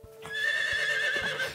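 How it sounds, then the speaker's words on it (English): A horse pulling a chariot lets out a close, sustained whinny that holds steady for over a second, with a few soft hoof knocks underneath. "Giddy up, Bessie."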